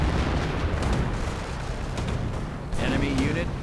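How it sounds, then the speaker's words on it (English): In a video game, an artillery barrage pounds enemy sniper positions as a dense, rolling roar of blasts and rumble that carries on without a break. "Artillery getting called in again on the snipers."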